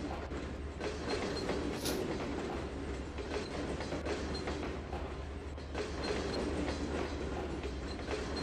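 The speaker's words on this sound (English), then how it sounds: "That should be the front of the train coming up now." Train rolling along the rails in the Trainz 2022 railway simulator, a steady rumbling drone with rhythmic clickety-clack of wheels over rail joints, continuous and moderately loud.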